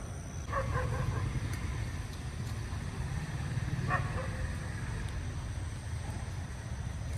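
Dogs bark at night on farmland where wild boars roam, with two short bursts of fairly distant barking over a steady rural background hum.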